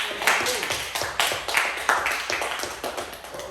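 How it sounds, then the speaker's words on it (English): Schoolchildren in a classroom clapping for a pupil after a song, a close, uneven burst of hand claps with sharp individual slaps over a few seconds. "Give her a round of applause."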